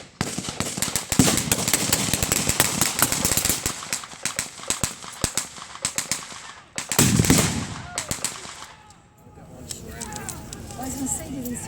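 Gunfire at a WWII battle re-creation, including a .45 automatic pistol, comes as dense rapid bursts of sharp shots. A brief lull follows before scattered shots resume, and voices can be heard throughout.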